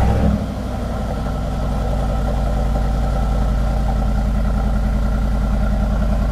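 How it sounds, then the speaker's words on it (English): A Vorsteiner widebody Mercedes-AMG G63 with an Akrapovic exhaust catches on a cold start with a brief flare, then settles into a loud, steady, deep rumbling idle close to the car. "We always start our videos with a cold start,"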